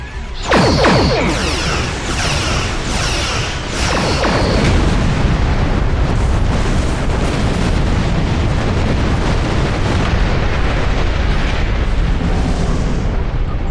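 Klingon starship weapons fire and explosions in a space battle, with several sharp bursts early on giving way to a loud, sustained rumbling roar of blasts.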